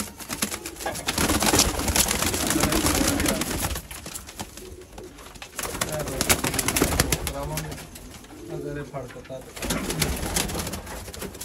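Purebred pigeons coo near by in soft, repeated calls, set against a dense, noisy background.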